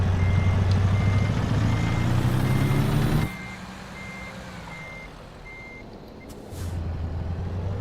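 Reversing truck in American Truck Simulator sounding a steady, evenly spaced backup beep over a loud engine drone, which drops away partway through and then returns.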